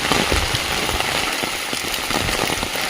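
Heavy rain pouring down around a village house, a loud, unbroken hiss of drops hammering surfaces with a low rumble underneath and no talk.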